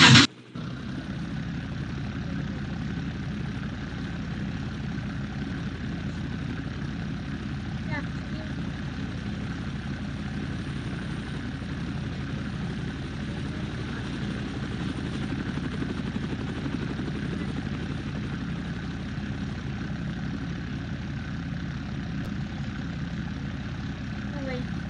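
Ferrari F40 convertible engine in a driving video game, a steady droning idle hum that runs loud and unbroken for the whole stretch, with no clear revs or gear changes.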